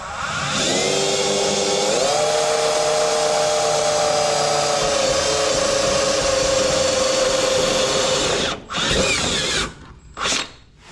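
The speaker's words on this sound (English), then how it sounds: "Drill a 1/2 inch hole for another grommet." A power drill with a step bit whines steadily for several seconds, its pitch shifting slightly as the bit bites in cutting a 1/2-inch hole in a 1978 C10 pickup, then cuts out and spins briefly in short bursts.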